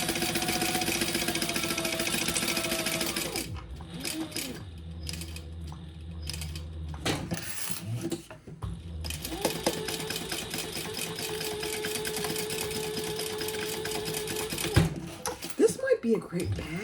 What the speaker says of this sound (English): And now I'm just basting the lining and the exterior wrong sides together.